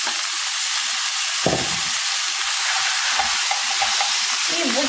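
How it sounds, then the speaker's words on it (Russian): Minced meat sizzles and fries in a pan with vegetables that are already turning golden, a loud steady crackle with a few stirring knocks and scrapes. "и мы будем отправлять сюда фарш и обжаривать"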